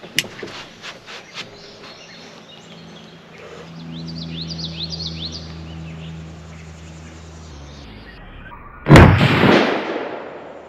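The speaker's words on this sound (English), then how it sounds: "Make sure that safety's on so we're ready to fire." A rifle fitted with a UUQ 3-9X32AO scope fires a single loud, sharp report near the end. Before it come a few faint handling clicks over a soft background of insects.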